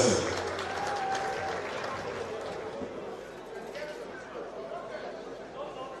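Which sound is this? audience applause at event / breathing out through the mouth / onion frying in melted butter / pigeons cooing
audience applause at event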